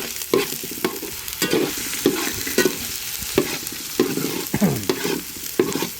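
A spoon scrapes and stirs chili powder into a sizzling beef leg curry with garlic paste, Wayanad style, in repeated rhythmic strokes about once a second over a steady frying hiss, close and fairly loud.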